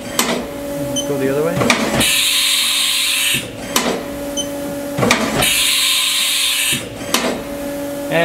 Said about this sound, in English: Next, we're going to simulate a tool change.